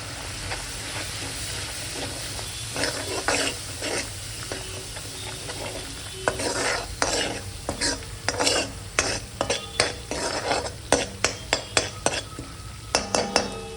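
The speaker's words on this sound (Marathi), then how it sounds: "एक मिनिट मसाला आपला परतून द्यायचा व्यवस्थित" Red chili powder, kitchen king masala, coriander powder and turmeric sautéing in a pan with a steady sizzle, while a spoon scrapes and stirs in quickening clinks that grow louder and more frequent toward the end.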